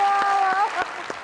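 Applause from a studio audience on a Hindi-Urdu cricket talk show, a few sharp claps rising over a steady murmur of talk, brief and moderately close.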